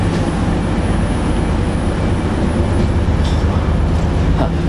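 Avanti West Coast Super Voyager 221101 runs between London Euston and Crewe, heard from inside the carriage as a loud, steady rumble of engine and wheels on track, continuous throughout with no talk.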